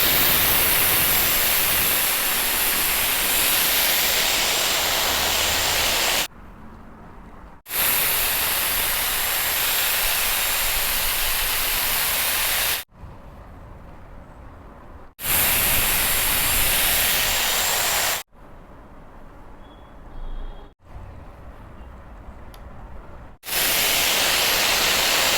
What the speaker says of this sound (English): And I would use a high heat and high airflow and switching this on.